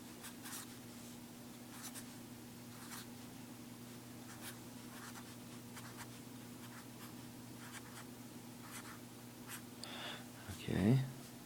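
A pen scratches out a factorial expression during a maths lesson, giving soft, repeated scratchy strokes at a steady pace. A voice is heard faintly, and a louder scrape comes near the end.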